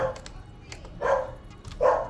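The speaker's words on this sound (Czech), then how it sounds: "Opět štěkání." Several short barks from a dog, coming in three bursts spaced about a second apart, fairly near and moderately loud against a steady low background hum.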